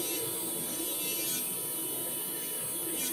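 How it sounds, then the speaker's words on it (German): An electric nail milling drill buzzes steadily at a high pitch while smoothing nail edges, close and continuous, with brief dips in tone as it presses against the nail. "sondern das macht der Fräser ja schon von alleine."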